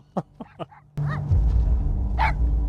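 A dog in the TV series Dark gives three short, sharp barks close by, then a loud, dense rumble of score and noise swells and takes over.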